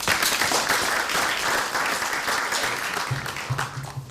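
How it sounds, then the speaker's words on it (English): Audience applause welcoming panelists onto a stage at a 2007 convention panel, a steady dense wash of clapping from a crowd that holds for several seconds and tapers slightly near the end. "Give a round of applause."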